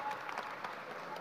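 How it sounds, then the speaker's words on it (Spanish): Audience applause at an international forum on social dialogue, equality and human rights: a brief, faint patter of clapping heard from a distance for just over a second. "le pedimos de pie para darle un aplauso, Susan Ferguson."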